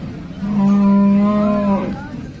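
A cow at a cattle market in Sangola, Maharashtra, lets out one loud, close moo lasting over a second, with faint background noise around it.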